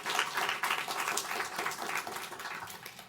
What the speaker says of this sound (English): So let's get a round of applause to welcome our guests today.